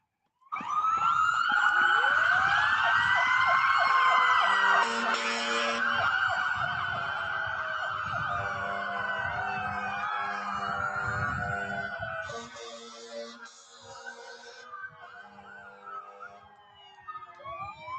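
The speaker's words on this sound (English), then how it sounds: "Please recognize them with your sirens." Several fire and emergency vehicle sirens wail together at a first responders tribute, loud and overlapping with rising and falling tones, then thin out and fade toward the end.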